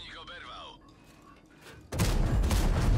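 A tank's autoloader drum fires in World of Tanks: game sounds and a brief sweeping tone give way to a sudden loud, sustained burst of cannon fire.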